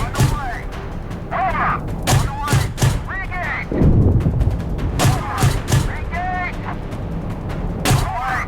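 Tank cannon rounds fire in the PC game Gunner, HEAT, PC while commanding a Bradley, a string of sharp booming blasts with rumbling impacts, scattered through the clip beneath excited talk.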